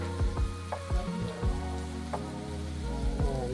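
Beef sizzles in a pan, a soft continuous crackle broken by scattered pops and scraping clicks, fairly quiet with no talk.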